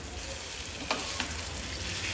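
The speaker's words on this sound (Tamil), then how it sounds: "சிக்கனை நல்லா கொஞ்ச நேரம் கொதிக்க விடலாம்." Pepper chicken fries in a pan as a steady, moderately quiet sizzle with a couple of faint stirring clicks, no one talking.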